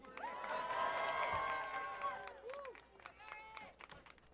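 A stadium crowd at the Prefontaine Classic Diamond League Final in Eugene cheers, whoops and claps in a swelling roar that peaks, then breaks into scattered shouts and whistles, with voices talking over it.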